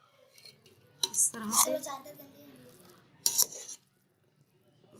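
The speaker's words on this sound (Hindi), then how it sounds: "अब हम इसमें डालेंगे आलू को छोलों के साथ और इसको आपस में मिक्स करेंगे" A spoon scrapes and clinks against a dish while cooled boiled chickpeas and potatoes are mixed together, in two bursts of stirring with a voice speaking briefly between them.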